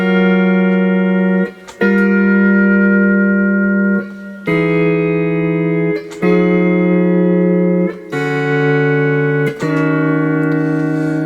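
Sustained electric guitar chords, 13th and augmented-ninth voicings, ring out one after another in a repeating descending pattern, each held for about two seconds with brief breaks between changes.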